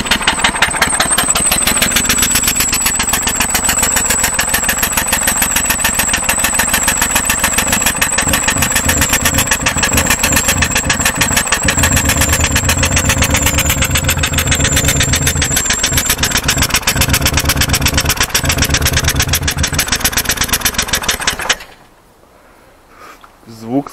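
A Toyota 4S-FE car engine starts and runs roughly, a loud, harsh, rapid knocking clatter that continues steadily for about twenty seconds before cutting off, with a voice heard briefly afterward.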